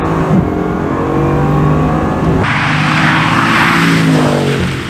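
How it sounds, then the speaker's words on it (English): A Bugatti Chiron's engine starts cold and revs, a loud, steady exhaust roar that swells sharply partway through and holds a high, rough pitch to the end, with no talking over it. "this is a cold start on a Bugatti Chiron"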